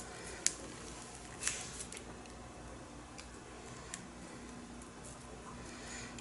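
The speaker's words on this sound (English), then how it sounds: "I'm going to cut these corner marks." Knife scoring corner marks into corrugated plastic for a soap mold, a few faint sharp clicks and short scratchy cuts spaced out over a quiet, steady background hum.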